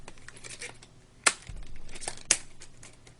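Quiet crinkling and rustling of a plastic package, punctuated by two sharp scissor-like snipping clicks as it is cut open, close by with no talking.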